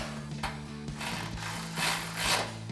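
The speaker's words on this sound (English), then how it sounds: "take a 13mm socket and tighten these" A 13mm socket ratchet tightens bumper bracket bolts on a 2019-2024 RAM 1500 during a bull bar install, giving steady close clicking pawl strokes with faint metallic gear whirring and no talk.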